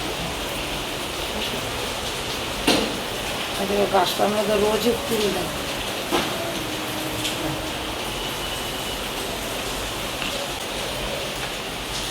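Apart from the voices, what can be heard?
morning rain falling outside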